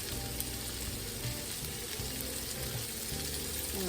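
Egg mixture for breakfast burritos fries in a pan over medium heat, giving a steady, soft sizzle with no talk.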